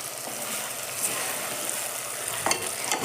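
Onions fry in a pan for kichadi alongside peas, a steady broadband sizzle holding throughout with a few soft stirring scrapes near the end, close and fairly loud, no voices.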